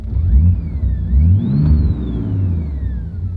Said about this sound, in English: and you can hear some turbo whine.